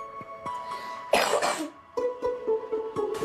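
A sick person nearby coughs hard a couple of times, a raspy burst amid quiet background noise and light clicks.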